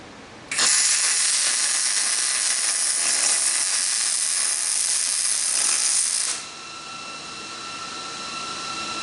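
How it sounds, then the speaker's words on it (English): Tack welding a bracket onto a rear section: a steady loud hiss and crackle of the arc starts abruptly, holds for about six seconds, then cuts off, leaving quieter background hum. "we laid a good weld there, the tack"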